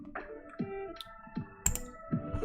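Typing on a computer keyboard makes a handful of quiet, irregular clicks and taps spaced across a few seconds, close and fairly soft.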